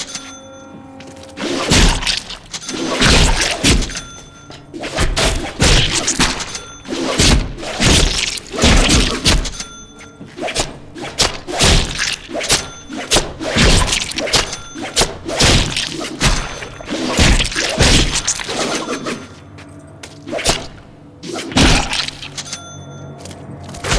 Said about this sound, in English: Mix our light and heavy attacks together and see what happens.